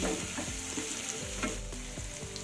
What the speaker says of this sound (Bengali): পেঁয়াজ রসুন আদা সব বেশ খানিক্ষণ কষিয়ে নিলাম